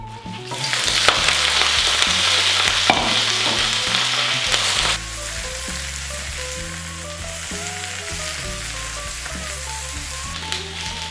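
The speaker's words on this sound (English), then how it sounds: "I'm just going to cook off the bok choy and the broccolini." Bok choy and broccolini fry in a hot pan for a pork stir fry, a loud steady sizzle with stirring clatter that quietens a little midway and keeps crackling, with no talk.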